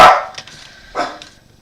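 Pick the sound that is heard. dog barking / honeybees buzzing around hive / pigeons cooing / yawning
dog barking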